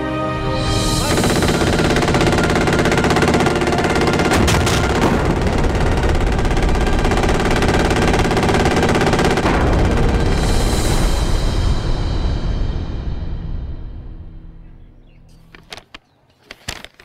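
Gunfire after an order to fire in a military drama, a long, loud, continuous burst of automatic weapon fire that fades out, followed by a few scattered sharp shots.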